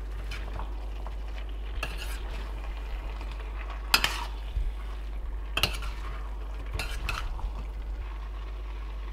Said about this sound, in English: I'm gonna add celery, the capsicum or green peppers, just going to mix that through.